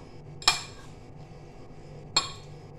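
Two separate metallic clanks of a utensil against a cooking pot while food is stirred, each bright and close, with quiet background between them.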